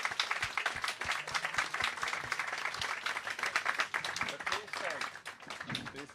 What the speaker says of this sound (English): thank this fantastic panel with a big round of applause